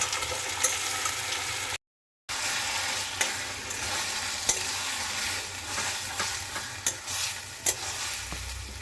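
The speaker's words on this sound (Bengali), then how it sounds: "এবার নাড়াচাড়া করব।" Raw mango pickle being stirred in a pan, a soft continuous sizzle with scraping strokes and occasional sharp clicks of the spoon against the metal, steady and fairly quiet apart from a brief dropout.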